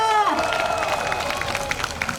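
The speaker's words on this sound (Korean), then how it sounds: "혼신의 힘으로 모든 것을 불태우신 김상원 목사님께 다시 한번 박수 부탁드립니다" A crowd at an outdoor citizens' family festival applauds a pastor, a steady, moderately distant patter of clapping heard under a voice at the start.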